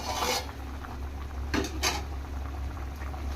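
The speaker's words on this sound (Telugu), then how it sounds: "మూత తీసి చూద్దాం" A metal lid clatters off a pot of boiling water for vegetable biryani, with two sharp bright clinks close by over a steady low bubbling rumble and no talking.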